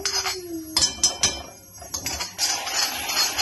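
Dry coconut and black cumin stirred in a pan with a utensil, giving scattered scraping clinks and knocks against the metal, fairly close and with no talk over them.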